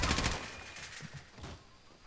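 Desert Eagle pistol gunfire in a video game, a quick burst of several sharp shots fairly close, fading into quieter echoing reports over about two seconds.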